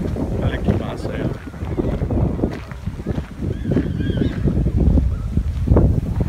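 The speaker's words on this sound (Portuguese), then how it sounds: "E tá uma ventania." Strong wind gusts buffet the microphone outdoors by a waterside park where boats sail, a steady low roar running throughout with voices and crowd sounds mixed underneath.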